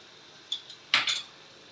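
A spoon scrapes and clinks against a bowl or pan while chili flakes and seasoning are mixed into food, with two or three short metallic strokes and quiet between them.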